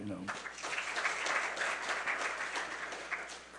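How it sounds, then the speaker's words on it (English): Audience applause at a forum session, a dense sustained patter of many hands clapping that swells then eases slightly while a voice speaks briefly at the start. "let us give one more big applause"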